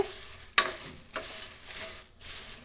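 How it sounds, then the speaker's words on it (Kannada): Curry leaves fry in a pan for curry leaf chutney, a steady close sizzle broken by a few sharp stirring scrapes and clatters. "ಚೆನ್ನಾಗಿ ಫ್ರೈ ಮಾಡ್ಕೋಬೇಕು ನೋಡಿ ಈ ರೀತಿ ಫ್ರೈ ಮಾಡ್ಕೋಬೇಕಾಗತ್ತೆ"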